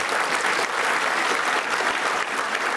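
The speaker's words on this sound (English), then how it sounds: "One more round of applause for Nipen." An audience at a chamber of commerce annual gala honoring a business person of the year gives a round of applause, dense sustained clapping from a large crowd throughout, loud and even.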